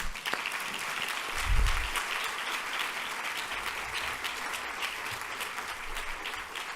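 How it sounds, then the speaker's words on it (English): An audience applauds at an opening program commemorating Emmett Till and Mamie Till Mobley, a sustained, moderately loud wash of clapping from a large crowd, with a brief low rumble early on. "And can we just give them all applause for that?"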